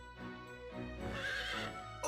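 A horse neighs in the game Fire Emblem: Three Hopes, a loud, close whinny with a wavering pitch that swells midway and fades out, lasting about two seconds with no talk over it.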